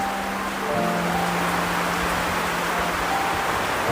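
Heavy rain during a storm, a dense, loud and steady wash of noise that lasts the whole stretch, with a faint tonal hum underneath and no talking.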